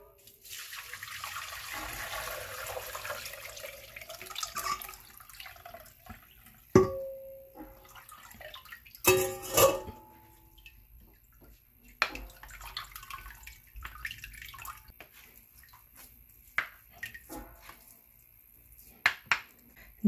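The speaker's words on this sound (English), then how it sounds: "Now we are going to strain this one more time." Carrot punch liquid being poured through a strainer, a soft trickling pour at first, then scattered drips, clinks and splashes of utensils against a container, close and mostly quiet.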